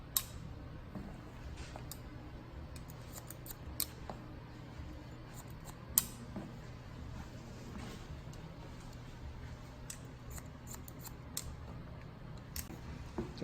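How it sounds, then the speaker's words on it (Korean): Scissors snipping hair into a rounded shape in a salon: faint, sparse, crisp metallic clicks at irregular intervals, close but quiet over a low background hum, with no voices. "자를 때부터 라운드를 지어서 잘라 가주면 돼, 이렇게"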